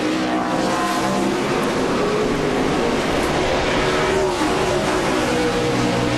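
NASCAR stock cars racing at the Montreal road course, a dense, loud roar of engines blending into a continuous wash of noise as the cars pass.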